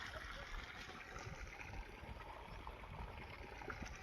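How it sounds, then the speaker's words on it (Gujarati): Irrigation water runs through a wheat field on a farm, making a faint, continuous trickling and gurgling flow with no voices. "ઘઉંમાં પાણી હાલે છે."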